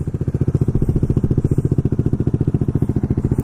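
A Kawasaki Z125 motorcycle idles with a loud, fast, even exhaust pulse from an aftermarket pipe, close up and steady without revving.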